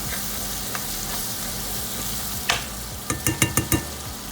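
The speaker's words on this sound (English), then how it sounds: "1 teaspoon of garlic and 1 teaspoon of ginger powder, and then give it a stir." Garlic and ginger powder being stirred in a hot pan for a pasta sauce, with a steady low sizzle and a quick run of spoon scrapes and taps near the end.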